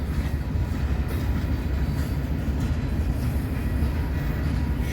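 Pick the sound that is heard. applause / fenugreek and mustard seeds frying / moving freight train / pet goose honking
moving freight train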